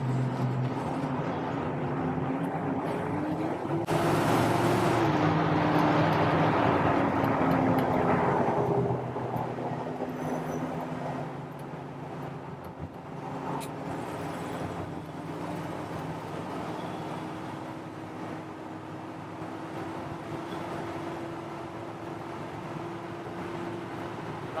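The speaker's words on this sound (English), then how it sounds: "you get a chance to see this truck going down the freeway" A 1956 Chevy 3100 pickup cruising down the freeway, with a steady low engine and road drone mixed with wind rush that swells louder for a few seconds early on, then settles into an even hum with no talking.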